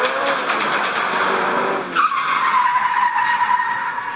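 A car skids hard at speed, a long broadband tire screech that narrows into a sustained squeal as it slows, loud and close with no talk.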